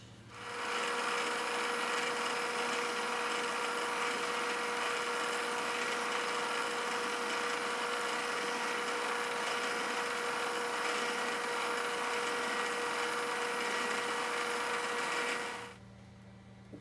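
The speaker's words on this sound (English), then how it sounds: "So we drill 6 holes at a time." A milling machine drills six holes at a time in Lexan with a steady, droning whine and a high tonal hum for about fifteen seconds, then winds down to quiet.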